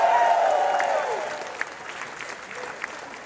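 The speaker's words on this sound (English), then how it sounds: "Give yourselves a round of applause." Crowd applause at a reparations rally, loud clapping and cheering that starts at full strength and gradually fades, with a few sharp individual claps near the end.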